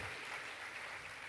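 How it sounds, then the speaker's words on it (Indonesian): A congregation at a Catholic revival service bursts into loud, continuous applause, a brief dense patter of many hands. "Kita beri tepuk tangan yang meriah."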